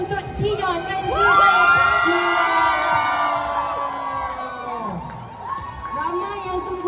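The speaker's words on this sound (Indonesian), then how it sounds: "ini kita nak sekali lagi berikan tepukan untuk Dion dan juga" Crowd cheering, whooping and shouting for Dion at a film premiere of Sore: Istri Dari Masa Depan at GSC Mid Valley, loud and lively with high excited voices and children's shouts, swelling and dipping over several seconds.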